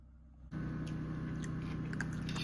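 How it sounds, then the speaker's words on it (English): Food being chewed over lunch outdoors beside a camper, a steady close mouth-noise texture that starts abruptly after a quiet half second and continues under a constant background hum. "I shouldn't be chewing and talking"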